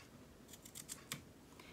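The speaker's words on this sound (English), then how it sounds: "So I'll trim this off." Scissors trimming rickrack on a dog collar: a short run of quiet, close snips, several in quick succession, heard alone.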